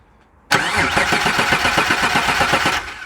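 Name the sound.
starter motor turning over Mitsubishi 3000GT engine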